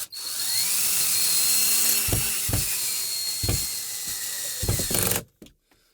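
A power driver whirs steadily as a screw is driven in to fix a cable hook to wall anchors in a studio shop, with a few heavier mechanical clunks near the end before it stops abruptly.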